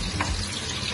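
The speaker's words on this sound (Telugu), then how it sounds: "కార్న్స్ ఉబ్బి ఆయిల్ ఇలా పైకి వేస్తూ ఉంటుంది" Corn kernels frying in hot oil for crispy corn: a brief, dense, close sizzle with bubbling and no voices.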